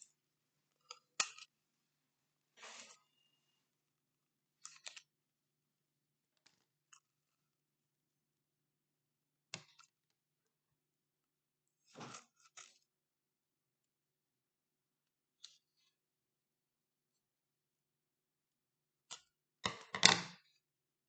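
Scissors cut through cardboard toilet paper rolls in short, separate snips and crunches spread across a quiet stretch, ending in a denser burst of cutting, with no talking.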